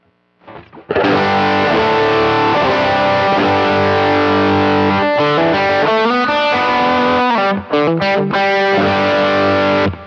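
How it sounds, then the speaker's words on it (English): An electric guitar runs through a Line 6 HX Stomp Princeton Reverb amp patch with a screamer overdrive engaged, playing loud, sustained distorted chords and notes after a brief soft start, then a few quick choppy strums. "Here's the amp gain first. Now let's turn on the screamer."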